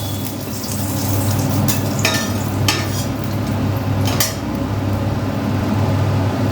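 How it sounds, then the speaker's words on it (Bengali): A dried red chili and bay leaves crackle in hot oil for a Bengali chalkumro ghonto, a steady close sizzle with a few sharper pops and clinks. "তেল দিয়ে দিচ্ছি একটা শুকনো লঙ্কা দুটো তেজপাতা ফোড়ন দিয়ে দিলাম"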